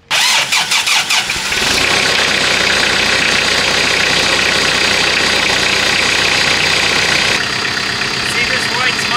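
A farm tractor with a blown head gasket cranks with a few rapid chugs, then catches and settles into a loud, rough, steady idle nearby, with someone speaking over it.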